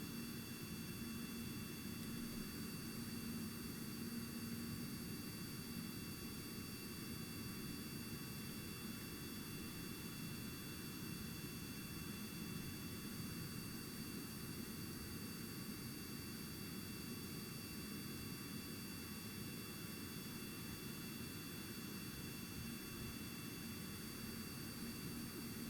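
A plane's jet engine drones continuously in Kerbal Space Program, a steady, even whine and rush that holds unchanged throughout at low level with no talking.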